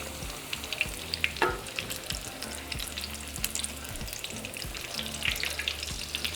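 A cheesy stuffed potato patty, papa rellena, fries in hot oil with a steady close sizzle, marked by scattered pops and a few scraping clanks of a utensil; no one speaks.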